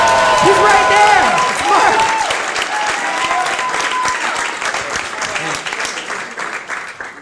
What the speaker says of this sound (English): Make some noise, get excited for Marc Panzer, everybody